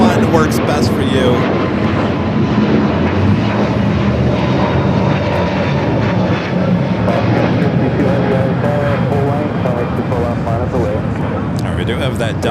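A Delta airliner, flight 938 bound for JFK, powers up its jet engines at LAX, a loud, continuous roar and whine filling the scene, with a voice talking beneath it.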